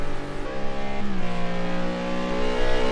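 A McLaren GT3 race car in a racing video game revs loudly on track at Oulton Park, its engine note rising and dropping through gear changes, close and continuous with no talk.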